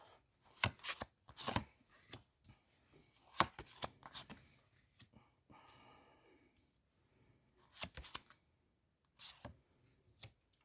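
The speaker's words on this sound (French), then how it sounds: "Je vais découvrir les cartes en même temps que vous." Tarot cards handled and laid out on a table during a reading: several crisp, close shuffling and slapping bursts separated by quiet gaps, with soft rustling and no talking.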